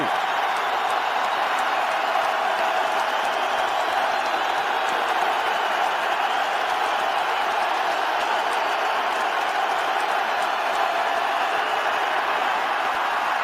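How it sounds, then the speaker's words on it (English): A large stadium crowd roars steadily at an NFL game, Washington Redskins at Dallas Cowboys, on a 4th down, a dense wash of cheering and noise that holds for the whole stretch without a break. "Jason Garrett implores the crowd to make some noise."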